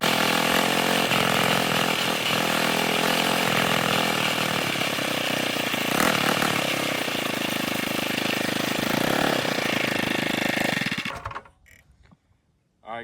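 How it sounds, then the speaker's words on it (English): A stock Ghost 212 small engine with stock coil and flywheel runs loud and close at high revs for about eleven seconds in a steady buzzing roar, then cuts off abruptly, leaving a brief quiet with small knocks. "So we're gonna go ahead and do a speed test and see how fast it goes right now."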